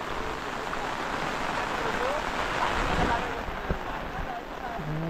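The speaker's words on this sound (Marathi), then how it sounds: "कंटिन्यू पाऊस चालू आहे" Continuous rain falls around four people walking through a Konkan village, a steady broadband hiss that stays even throughout, with a few faint knocks and shuffles beneath it.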